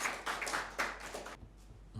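An audience at an Independence Day Pakistan mushaira bursts into brief, fairly close applause that lasts about a second and a half, then breaks off into near silence.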